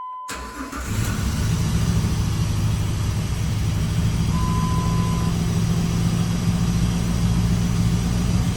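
A 2005 Jeep Liberty engine starts and idles steadily and loud nearby, its rough running carrying small shifts as the RPMs jump up, with no one talking.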